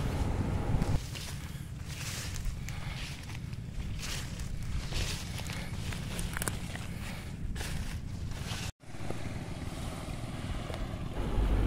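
Beach waves near Bauang Bakawan eco park, a continuous wash of surf mixed with heavy wind buffeting the microphone, with a brief dropout near the end and no talking.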